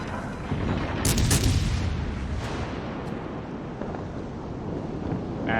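Heavy naval guns firing in World of Warships Legends, a couple of loud booming blasts early on over a steady wind-and-sea rumble, followed by continued low rumbling background noise.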